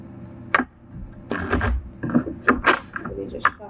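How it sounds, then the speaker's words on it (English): Tarot cards shuffled by hand in quick riffling bursts and soft slaps, close up, with brief pauses between bursts. "Let me just shuffle here."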